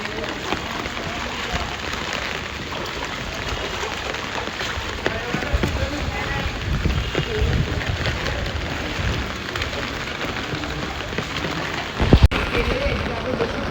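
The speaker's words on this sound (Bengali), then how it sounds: "বৃষ্টি আরো বেড়ে যাচ্ছে, বৃষ্টি আরো বেড়ে যাচ্ছে।" Heavy rain pours down in a steady, dense outdoor wash of noise that holds throughout, with a brief louder knock near the end.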